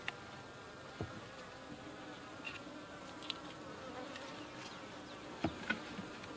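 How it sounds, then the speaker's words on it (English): Honeybees in an opened horizontal hive give a steady, dense, low hum, with soft clicks and knocks from the hive woodwork over it. "Oh yeah, there's a lot of bees in here."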